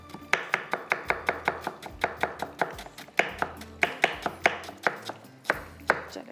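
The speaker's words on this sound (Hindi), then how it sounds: "कैबेज भी कटिंग होगी" Rapid knife chopping of cabbage on a cutting board, sharp close taps in a steady quick rhythm with a few brief pauses, recorded in a kitchen.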